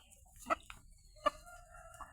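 Two short, sharp clucks from a chicken, spaced about a second apart, heard alone over faint outdoor background.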